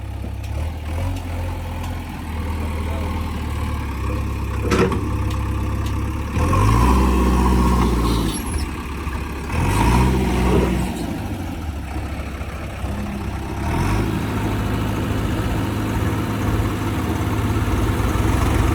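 A tractor hauling manure runs steadily, its low engine drone rising in a few revving surges over about eighteen seconds, with no voices.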